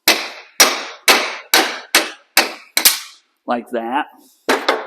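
A 3-pound sledgehammer drives an old socket against a part on a 1951 Willys Jeep, giving seven sharp metallic blows in a steady rhythm and then two more, close and loud, with someone speaking briefly between strikes.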